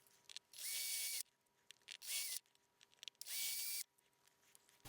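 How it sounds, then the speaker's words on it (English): A stepped drill bit enlarges the pot holes in an Epiphone Junior guitar body, giving three short, loud whining drill bursts separated by quiet pauses and light handling noise. "usually what I use for that is a stepped drill bit"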